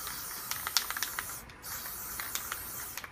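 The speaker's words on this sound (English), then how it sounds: "So spray some blue down over here." Close, continuous hiss of an aerosol spray paint can laying down blue paint, broken by small sharp clicks and a brief pause midway before the spray resumes.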